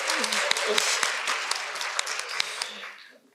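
Audience applause for a woman who has just arrived at a talk, a dense patter of clapping that fades out near the end.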